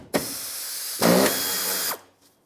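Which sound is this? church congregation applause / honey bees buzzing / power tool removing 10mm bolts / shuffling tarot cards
power tool removing 10mm bolts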